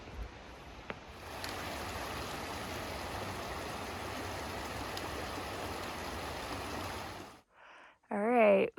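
A stream rushing toward waterfalls beside a marshy area on a mountain trail, a steady soft hiss of flowing water that cuts off near the end as brief noises and a short burst of voice follow.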